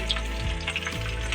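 Chopped garlic and shallots fry in hot oil, a steady close sizzle with soft crackles and bubbling over a short stretch, no voices.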